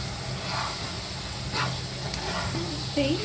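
Tomatoes frying in a pan for prawn biryani give off a steady, close sizzle with a soft hiss, broken by a few light stirring scrapes and a faint tonal sound near the end.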